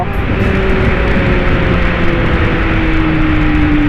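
A Kawasaki Z800 converted to ZX8 styling accelerates, its engine a loud, steady, close drone with a slowly rising tone under constant wind rush, with no talking.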